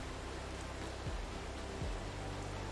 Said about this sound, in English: while we wait for the rain to go away